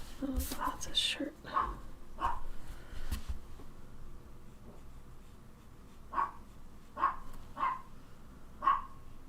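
A pet dog barks at feeding time, several sharp yips in quick bursts at the start and again later, faint and somewhat distant, under soft talk.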